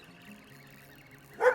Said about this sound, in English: I think that dog sees my dog